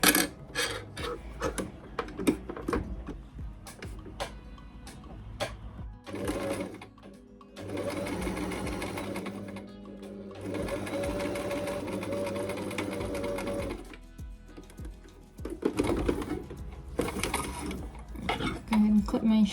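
A sewing machine fitted with a zipper presser foot stitches a zipper fly into linen pants, running in several bursts of steady whirring with short pauses between them, close and clear, with a voice talking in the gaps.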